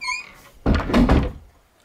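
A sticking closet door in a house is pulled open with a short squeak, then a dull thunk and scraping rub as it frees, close and fairly loud.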